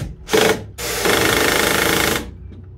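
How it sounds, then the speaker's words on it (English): A power screwdriver drives screws back into a lift-up bridge structure, two close, loud whirring bursts, a short one then a longer steady run of about a second. "Then I'll screw those two screws back in and then remove the clamp and then put the third screw in."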